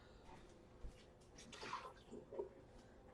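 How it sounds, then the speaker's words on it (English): Water being emptied out in a home kitchen: soft splashing and pouring with a couple of brighter gurgles, quiet and close, with no talk. "let me empty out this water"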